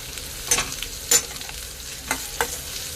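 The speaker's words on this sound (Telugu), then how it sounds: "ఆనియన్కి పచ్చిమిర్చి కూడా వేసామండి పసుపు కొంచెం కళ్ళుప్పండి" Onions frying in a pan with green chilies, ginger, turmeric and salt for a sweet potato kurma, giving a steady soft sizzle with a few sharp stirring scrapes close up.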